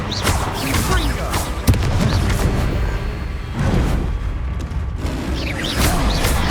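A Confringo blasting curse in Hogwarts Legacy goes off in a dense game mix, with booming impacts and clatter spread through the clip and a sharp hit near the start, under a continuous bed of game noise.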